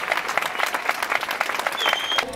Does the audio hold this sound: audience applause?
yes